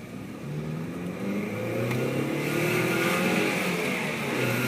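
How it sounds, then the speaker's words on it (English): A 1999 Alfa Romeo 156 2.0 Twin Spark manual sedan accelerating up a road, its engine note rising steadily in pitch and loudness, heard from inside or close by. "We'll just give it a little burn up the road here and without causing too much."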